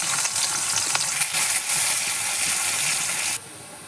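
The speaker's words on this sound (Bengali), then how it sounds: "তেলের মধ্যে পেঁয়াজ ফোড়ন দিচ্ছি" Chopped onion sizzles hard in hot oil in a pan over a wood-fired clay stove, a loud, steady crackle with stirring scrapes, cutting off abruptly near the end.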